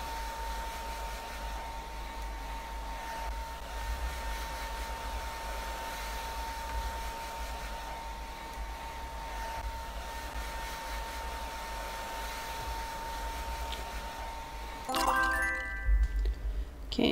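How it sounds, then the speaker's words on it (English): A hair dryer in the video game Hairdresser Simulator blows as a steady, moderate whirring hum, held for a long stretch before a short jingle of game chimes at the end. "select the hair dryer and hold to dry the customer's hair"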